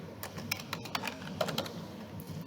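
Typing on a computer keyboard, a quiet series of irregular close key taps clustered in short runs, with a slightly louder clack at the end.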